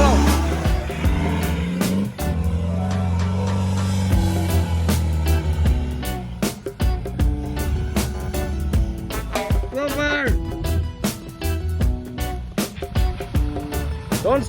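A 4x4 off-road vehicle roars through a river crossing with its clutch dumped in third gear, a loud, sustained engine drone with shifting revs, while people shout over it.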